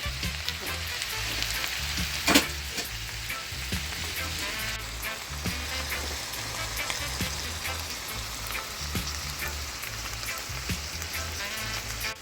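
Dumplings frying in a pan for a Jamaican ackee and salt mackerel meal, giving a steady, close crackling sizzle that holds for the whole stretch with one sharp pop early on and no talking.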